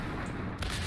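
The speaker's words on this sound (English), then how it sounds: "That last shot cooked off every missile rack they had." Missile racks cook off in a sudden explosive boom in the Warframe video game, a loud blast cutting through dense combat noise near the end of the moment.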